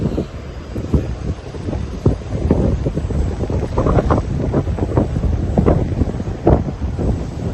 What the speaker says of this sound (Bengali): প্রচণ্ড হাওয়া